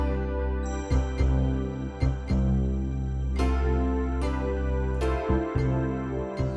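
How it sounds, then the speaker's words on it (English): Podcast outro music plays on its own at a steady level, with a sustained layered backing and a few stronger accented hits. "this is going to be an example of the outro music"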